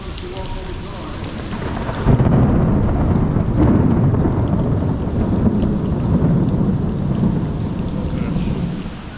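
Rain pours down at a canal during a fishing outing as thunder rolls in, a loud sustained rumble swelling from about two seconds over steady close rain hiss.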